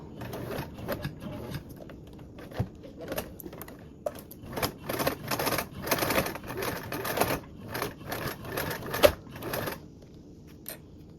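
A sewing machine stitches a toiletry bag seam with webbing, at an eighth-inch allowance, in a series of short, uneven bursts of rapid clattering, fairly close and moderately loud.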